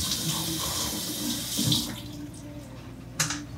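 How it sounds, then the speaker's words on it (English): Strawberries rinsed in a holed container under a running kitchen tap, a steady hiss and splash of water with a few brief louder surges as the berries shift, close and fairly quiet. "just run them under water here"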